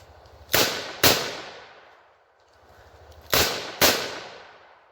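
Four loud, close revolver shots from a Smith & Wesson Model 66 Combat Magnum six-shot revolver, fired in two quick pairs with sharp cracks and ringing decay, no talk.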